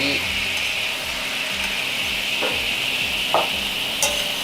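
Yellowtail fillets simmering in teriyaki sauce in a pan, a steady close sizzle with soft bubbling and a few brief scrapes of a utensil stirring the pieces through the glaze.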